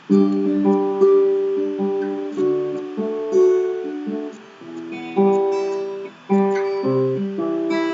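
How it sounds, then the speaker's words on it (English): Acoustic guitar fingerpicks the intro of a song at a slow, steady pace, each plucked note ringing into the next, with no voices present. "So for the intro, I like to finger pick."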